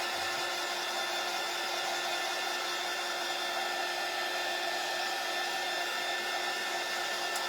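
A hair dryer blasts steadily at close range to dry paint on a sunflower gnome shelf sitter craft, a continuous loud airy roar with a faint whine and no break.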